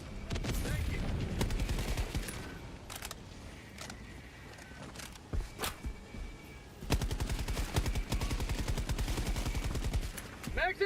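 Gunfire from the Helldivers 2 video game: scattered shots and short bursts, then a long rapid volley near the end, all loud and close. Faint game sounds and voices lie underneath.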